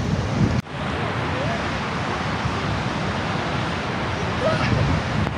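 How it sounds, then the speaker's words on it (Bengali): Water pouring down Pykara waterfalls, a steady broad roar close by that holds evenly throughout, with a brief dip near the start and faint voices beneath. "এই যে দেখো কিভাবে জলটা পড়ছে, বাবারে!"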